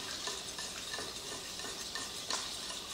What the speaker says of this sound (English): And my butter is nice and sizzling.